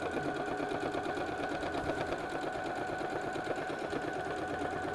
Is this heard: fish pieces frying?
no